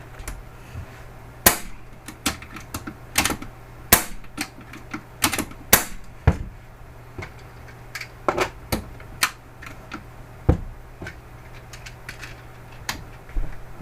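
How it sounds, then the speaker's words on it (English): An Umarex Gauntlet 30 PCP air rifle is dry fired repeatedly outdoors, a series of sharp, close mechanical clacks at irregular intervals over a faint steady hum. "just dry fired that thing a few times, get the reg to settle in"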